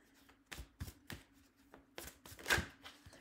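Tarot cards being shuffled for a reading, heard as soft, separate riffling and tapping bursts close by with gaps between them, fairly quiet overall.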